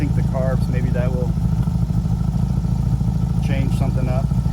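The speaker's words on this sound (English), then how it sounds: "It's acting weird at idle, but at least it's idling." A 1975 Honda Goldwing motorcycle engine idles with a steady low rumble, its idle reportedly uneven and popping after ignition timing work; someone talks over the continuous engine sound.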